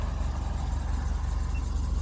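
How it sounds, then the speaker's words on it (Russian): A VW Passat engine runs steadily at idle with a faint rustling roller, a close, even low hum heard alone for a couple of seconds. "Так, теперь у нас работа мотора. Она, в принципе, он работает нормально. Единственное, что вот шуршит у нас какой-то ролик."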